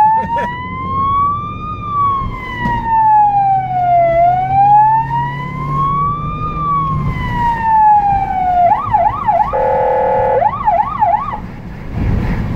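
An emergency vehicle siren in Budapest wails up and down slowly and loudly, then switches to a rapid warbling yelp, over a low engine rumble.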